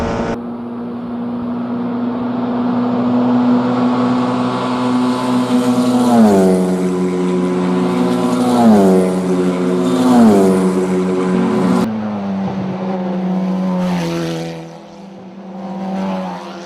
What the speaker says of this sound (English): Six cars duking it out for 4th position